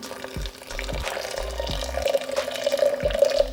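Freshly boiled water pours onto coffee grounds in a steady, close trickle that fills the whole stretch with a bubbling splash.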